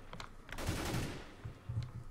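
A few rapid bursts of gunfire crack out in quick succession, moderately loud, with brief gaps between volleys.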